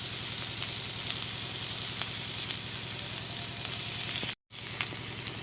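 Boiled potatoes pressed by hand into spiced oil in a pan fry with a steady, close sizzle and soft crackle that runs without a break, dropping out briefly near the end before resuming.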